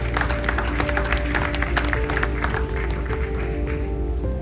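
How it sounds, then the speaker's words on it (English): Audience applause at a tech expo conference hall, a broad wash of clapping that runs steadily throughout with faint background music tones underneath. "Please give yourself a good hand of applause."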